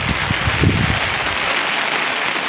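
Rain pours steadily outdoors around a riverside cooking spot, a loud dense hiss with scattered low thumps of drops early on, and no voices.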